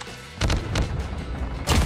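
Sniper rifle shots in the mobile shooter COD Mobile, a few sharp booming cracks spaced apart against quiet game background, with no talk over them.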